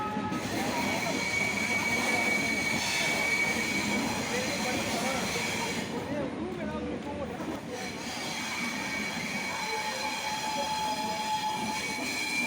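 Train at Villupuram railway station in Tamil Nadu, a steady rumble of rail cars with a faint horn, heard amid continuous platform crowd noise and chatter for the whole stretch.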